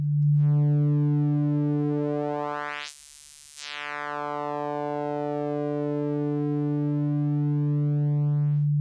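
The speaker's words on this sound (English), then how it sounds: "it seems like if I turn this up on the sine wave, it also adds more and more harmonics until it even becomes a saw wave" Bitwig Phase-4 synth sine wave under modulation, a steady sustained tone rich in added harmonics that sweeps to a bright, noisy peak and briefly dips before settling back, loud and alone.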